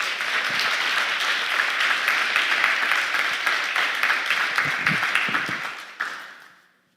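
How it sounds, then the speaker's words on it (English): An audience applauds at the closing remarks of a development forum, dense steady clapping that holds for several seconds and then fades out. "So I think that it deserves the applause too."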